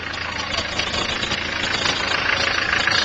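A Land Rover idles steadily while its winch draws a round bale up a rope onto a trailer; continuous mid-level engine drone, close and even throughout, with some voices faintly underneath.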